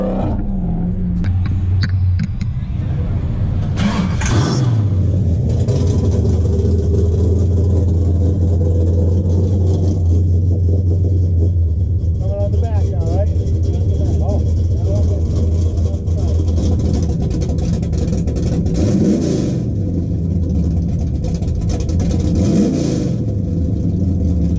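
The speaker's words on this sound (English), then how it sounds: "Let's fire it up." A custom 1971 Plymouth Duster muscle car engine cranks, fires and revs loudly up close at the Woodward Dream Cruise, settling into a deep rumbling idle between throttle blips while people talk nearby.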